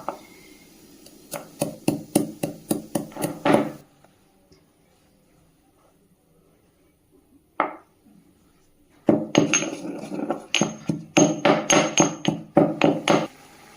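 Roasted spices, cooled after frying for a prawn and taro curry, pounded into powder with bursts of rapid, sharp, close metallic strikes, a pause of near silence with one lone knock, then another run of quick hard blows.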